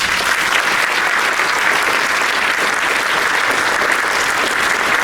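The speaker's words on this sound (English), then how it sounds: "Let's give them a round of applause." Loud, steady applause from a large audience at a school band spring showcase, sustained clapping throughout with no pauses.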